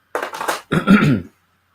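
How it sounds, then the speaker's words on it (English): A person clears their throat twice in quick succession, a short rasp followed by a longer, deeper grumble, close and alone. "I'm constantly having to clear my throat"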